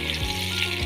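Chopped onions frying in hot mustard oil for chana dal, giving a steady close hiss and sizzle over a low hum with no talking.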